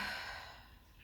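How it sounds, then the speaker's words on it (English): A single loud exhale pushed out during a gentle floor stretching session: a soft, breathy rush of air that starts strongest and slowly fades over about a second, heard alone and fairly quiet. "Another deep inhale in. Another loud exhale."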